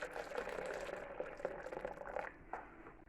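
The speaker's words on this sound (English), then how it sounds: "we need 400 milliliters of water, which I've pre-boiled to speed up the process" Pre-boiled water is poured into a pot of leftover vegetable soup, a steady bubbling, gurgling pour that thins out toward the end, moderately quiet with no talk.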